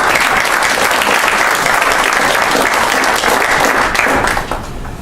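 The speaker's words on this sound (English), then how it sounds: "so if we can give them a round of applause" An audience at a university honor society induction ceremony gives a sustained round of applause, loud and dense throughout before thinning slightly at the end.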